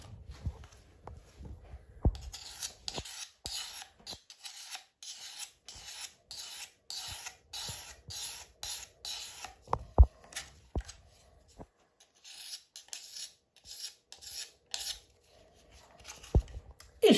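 Pruning shears blade is drawn over a 1000 grit whetstone in repeated rasping strokes, each a short gritty scrape with brief pauses between, close and clear with no talk.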